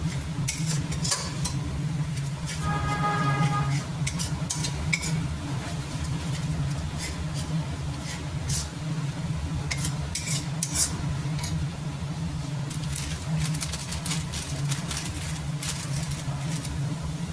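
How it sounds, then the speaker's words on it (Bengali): Spices with onion and garlic sautéing in a pan, a steady sizzle under rapid, repeated scraping and clinking of a stirring utensil, close and continuous, with a brief tonal hum partway through. "আমি মশলা কিন্তু কষাবো, মানে পেঁয়াজ রসুনের যাতে কাঁচা গন্ধটা না থাকে"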